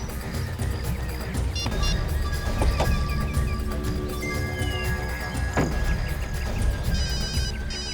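A phone rings with an electronic ringtone melody amid busy, cluttered background noise, repeating through the whole stretch.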